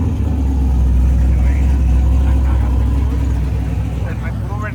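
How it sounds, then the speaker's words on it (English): A 1998 Camaro with an LS1 engine rumbles loudly and revs while held for a sitting burnout, a heavy, steady low drone with voices talking faintly over it. "Try to do a sitting burnout."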